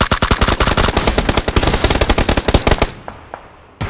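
Rapid automatic gunfire in PUBG, a dense stream of loud, close bursts for about three seconds before cutting off, leaving only a few faint, scattered shots.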